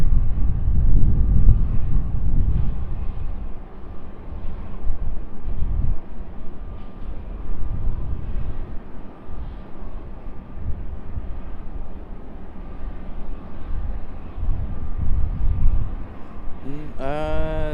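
Airliner noise at Raleigh-Durham International Airport: a steady broad low rumble of jet engines holding through the stretch, with a brief rising whine near the end.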